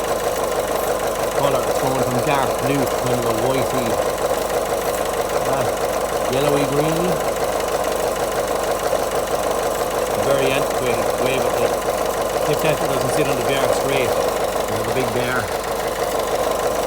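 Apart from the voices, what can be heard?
Peugeot/Citroen 1.6 diesel engine running, idling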